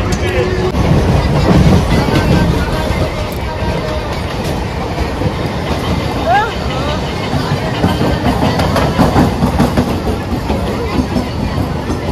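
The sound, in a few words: inside a moving train with passengers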